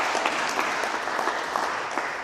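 A church congregation claps for an elderly man during a sermon: steady, dense applause that fills the whole moment at an even level with scattered sharper claps, with no voices over it.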